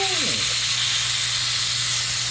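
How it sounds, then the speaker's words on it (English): Loud, continuous sizzling of steak frying in a hot pan, a steady crackling hiss heard up close with no talking. "Let's see if we could get the first initial sizzle on camera."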